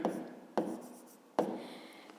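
Chalk or marker strokes on a classroom board during a fifth-grade maths lesson, three distinct scraping strokes, each with a sharp onset then a fading tail, fairly close and alone.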